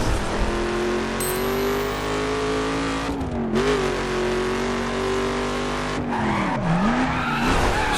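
In The Crew, a car's engine drones steadily while its tires squeal through corners with the handbrake, the pitch bending and wavering as it slides, loud and continuous throughout.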